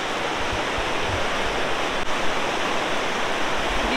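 River water rushing among rocks in Parvati Valley, a loud, dense, continuous roar heard up close, steady throughout with no voices.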